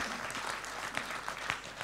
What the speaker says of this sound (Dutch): Applaus voor meneer Van Westerlo.